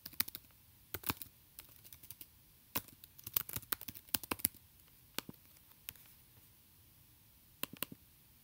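Typing on a computer keyboard while renaming a spreadsheet worksheet: scattered bursts of quick, light key clicks with short pauses between them, fairly faint and close, with no speech.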